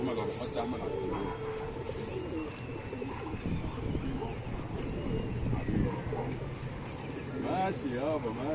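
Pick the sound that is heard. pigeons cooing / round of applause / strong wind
pigeons cooing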